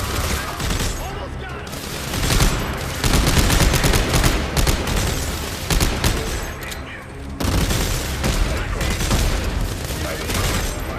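Rapid gunfire in the sci-fi shooter game Dead Space 3 comes as dense, loud bursts of shots, with a brief lull before another sustained volley.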